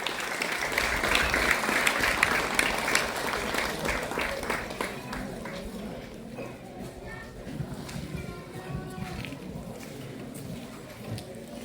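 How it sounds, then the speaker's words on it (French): A ceremony audience at a Légion d'honneur event applauds for Rodolphe Alexandre: dense, steady clapping from many hands that thins and fades partway through, leaving scattered claps and low murmuring. "Donc veuillez applaudir monsieur Rodolphe Alexandre."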